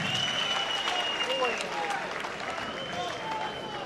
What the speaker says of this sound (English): A big round of applause for both these fighters, Marko Lukačić, Ben Kelleher.